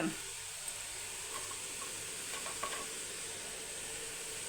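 Medium-sized chicken pieces sauté in a hot pan for biryani, giving a steady, even sizzle and hiss with a few faint stirring clicks and no talking.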